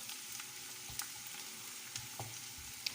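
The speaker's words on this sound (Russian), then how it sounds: "лук с морковочкой у нас покрошили мы, обжариваем в растительном масле." Chopped onion and carrot fry in vegetable oil as a soup base for cabbage shchi, giving a steady close crackling sizzle with a few soft clicks of stirring.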